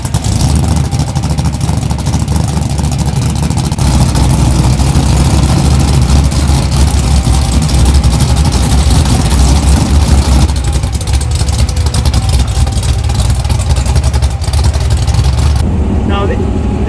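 The engine of an 840bhp drag car with a 4-speed manual shift rumbles loud and low throughout while cruising, a constant heavy drone with people talking over it.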